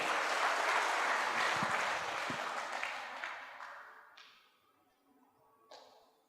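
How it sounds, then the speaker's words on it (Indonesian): An audience at an Indonesian business community event applauds, a loud dense burst of clapping that gradually thins out and fades, leaving a few scattered claps near the end. "Mohon aplaus untuk Tiansi dan One Vision Indonesia."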